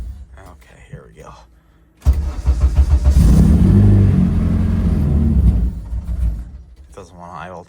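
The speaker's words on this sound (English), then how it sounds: "It doesn't want to idle. It's too cold." The engine of a K-swapped Honda Civic race car starts in freezing blizzard cold and runs rough, surging and struggling to hold idle. Quiet talk comes before and after.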